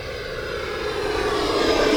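An E-flite F-18 Blue Angels 80mm electric ducted-fan RC jet roars past on a landing approach with gear and half flaps down, a loud steady whoosh building in intensity over two seconds.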